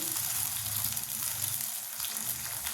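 Cooking water from moong dal hits a hot pan for Rajasthani-style kichdi, making a steady loud sizzle and bubbling hiss throughout.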